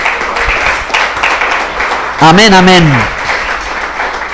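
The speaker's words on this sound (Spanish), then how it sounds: "Denle al Señor un aplauso de alabanza" A church congregation gives steady, full-room applause in praise, with a voice briefly calling out over the clapping midway through.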